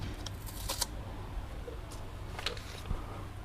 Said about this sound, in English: Might as well grab this tape off now as well.